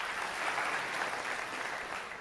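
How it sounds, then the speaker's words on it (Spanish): Applause during an online English class, a faint, steady patter of many clapping hands lasting about two seconds before cutting off. "¿Escucharon los aplausos?"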